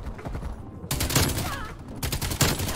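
RPD light machine gun firing in Call of Duty Cold War, long loud bursts of rapid automatic fire with a brief pause between them.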